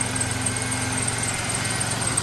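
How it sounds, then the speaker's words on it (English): Supercharged engine of a 2004 Chevrolet Impala SS running steadily, heard close with the hood open, a continuous droning hum with a faint high whine above it and no voices. "Seems like the supercharger's working."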